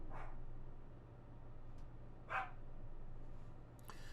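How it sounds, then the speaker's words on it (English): Dogs barking at a distance behind steady low hum, a few short yips scattered across the stretch, faint and intermittent. "In the background, you can hear that the dogs definitely agree with that"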